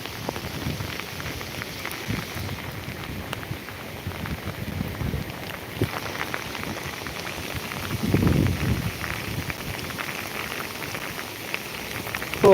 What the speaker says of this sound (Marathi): आणि चांगलीच मोठी सर आलेली आहे पावसाची